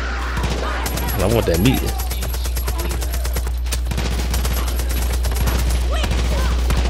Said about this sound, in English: Yeah, they definitely shooting there.